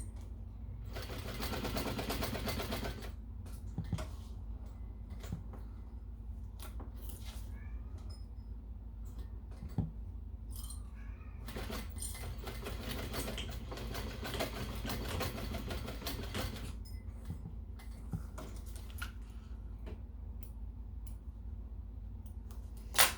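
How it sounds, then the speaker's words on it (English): A home sewing machine stitches back and forth over a zipper and clasp while sewing an unlined zipper pouch, running in steady mechanical bursts with short pauses, close and moderately loud, with no talking. "I like to back stitch a couple of times over the zipper and the hook, the clasp."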